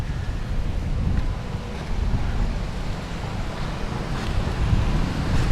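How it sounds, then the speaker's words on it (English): Choppy sea waves wash in continuously at Jomtien Beach in Pattaya, Thailand, a loud rolling surge of surf mixed with heavy wind buffeting the microphone, swelling and easing in uneven pulses with no one talking. "The sea's a little bit choppy here today, as you can see."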